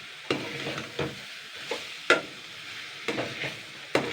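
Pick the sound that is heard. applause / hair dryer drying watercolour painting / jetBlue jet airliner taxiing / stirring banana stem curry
stirring banana stem curry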